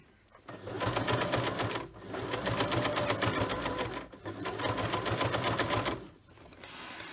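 A domestic sewing machine runs zigzag stitching over fabric while making a fabric basket, in three steady motor bursts with a rapid needle chatter, separated by brief pauses, close and fairly loud.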